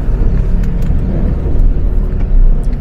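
Dense road traffic fills the scene with a loud, continuous low engine rumble and whirring tire noise, close and unbroken, with no voices.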